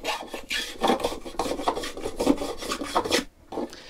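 A small No. 9.5 hand plane rounding over the edge of a wooden piece for a lazy kate, making a steady series of close, rasping strokes with brief pauses between passes and no talk.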